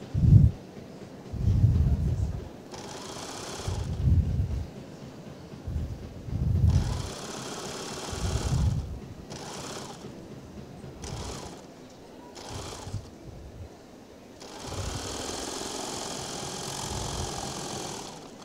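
A Baby Lock overlocker runs a four-thread stitch through three thick layers of fabric in short bursts of whirring, separated by pauses and quieter handling sounds.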